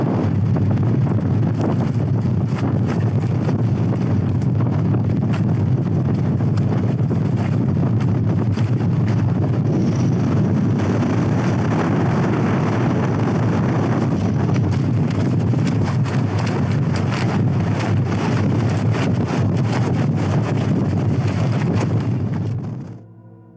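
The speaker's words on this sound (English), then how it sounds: "The wind starts hitting harder and harder, and the tent is no longer just shaking." Strong wilderness wind pounds against a tent in a cold wind chill, making a loud, constant roaring buffet close to the microphone that fades out at the very end.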